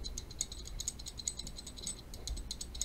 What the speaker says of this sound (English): So the factory bushing sounds like this.